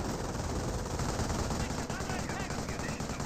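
Sustained, dense MG42 machine-gun fire in the World War II strategy game Company of Heroes, loud and continuous across the whole moment with layered battle noise and rapid bursts.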